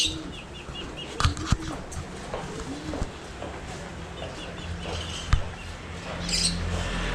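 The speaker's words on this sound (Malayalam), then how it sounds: "ഫുള്ള് പ്രാവ്, അതുപോലെ തന്നെ കൊച്ചു കൊച്ചു കിളികളും കാര്യങ്ങളൊക്കെ" Pigeons and small birds in a pet shop flutter and flap their wings in short bursts, with occasional chirps and coos over a busy indoor background.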